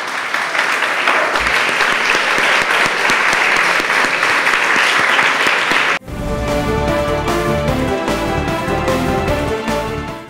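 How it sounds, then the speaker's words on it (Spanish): Loud, sustained applause from a crowd at a school debate, clapping steadily for several seconds before giving way to music. "Un fuerte aplauso para ella."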